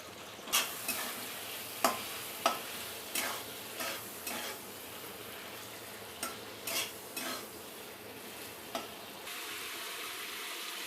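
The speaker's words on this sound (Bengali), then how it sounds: "সামান্য একটু হলুদ আর একটু নুন দিয়ে চিংড়ি মাছটাকে ভেজে নেব।" Prawns frying in mustard oil with turmeric and salt in a kadai: a soft, steady sizzle broken by a dozen sharp scrapes and clinks of a spatula stirring, heard fairly quietly with no talking.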